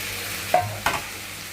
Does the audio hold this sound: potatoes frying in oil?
yes